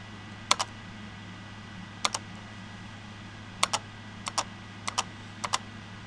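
Keys on a computer keyboard are tapped during an assistive typing interface demo, landing in quick pairs of clicks with pauses between, close and crisp over a low steady hum.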